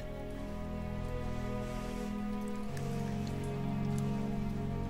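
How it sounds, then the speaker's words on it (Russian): Steady rain falling on a surface, a continuous dense patter that holds even throughout, with a faint low hum underneath. "Дождь уже стихает."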